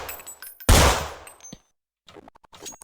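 A Glock pistol in the futuristic shooter Counter Strike NEO fires a single loud sharp shot with a short ringing tail, then a few faint mechanical clicks.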